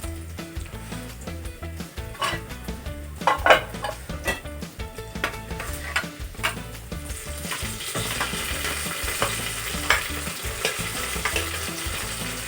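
Onions and spices fry in a pan for biryani, a steady hiss and sizzle broken by repeated scraping and clinking strokes of a spoon stirring against the metal, close and fairly busy throughout.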